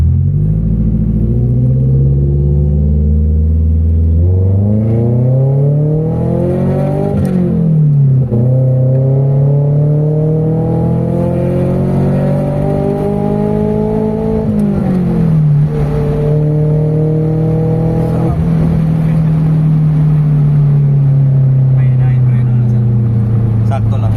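A Toyota Corolla GLI on a test drive in Tarlac City: a steady engine drone rising and falling through the gears, loud and close from inside the car, with no talk over it.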